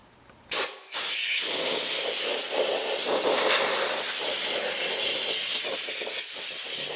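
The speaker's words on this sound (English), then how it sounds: "so we'll spray the dust off of this" A short burst of hiss, then a loud, continuous spray of compressed air blasting dust off a 1956 Chevy body in a paint booth for several seconds, close by.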